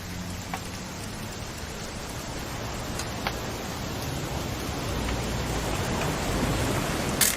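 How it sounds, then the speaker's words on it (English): Continuous rain noise fills a video game scene in What Remains of Edith Finch, a dense, even hiss with faint scattered ticks of drops, growing slightly louder toward the end. "It's gonna rain the whole weekend, isn't it?"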